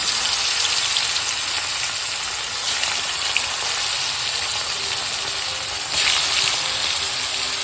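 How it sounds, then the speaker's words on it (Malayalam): Chicken pieces fry in heated oil in a pan on the stove, a loud, dense, steady sizzle throughout with slight swells in intensity, close by and with no one talking. "അങ്ങനെ നമ്മളിത് എണ്ണ ചൂടാക്കി നമ്മൾ ഇതിലേക്ക് ഇട്ടു."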